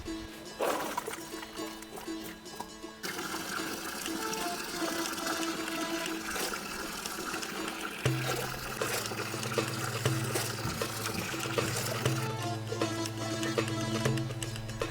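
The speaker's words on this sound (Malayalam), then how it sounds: "ഇതിനെ ഒന്ന് ഞാൻ വൃത്തിയായിട്ട് കഴുകട്ടെ" Water pours and trickles steadily while black grapes are washed at home, a continuous close splashing and running-water sound with no talk.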